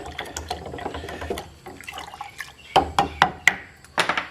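Yeast compost accelerator liquid being stirred, giving a run of wet sloshing and dripping splashes in short irregular bursts, nearby and fairly clear, with a denser flurry of strokes toward the end.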